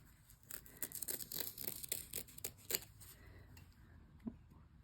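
Scissors trimming material while making a zip bag with an 80s game controller design, heard as a run of close, crisp snips and rustles, quite faint, with one sharper click near the end.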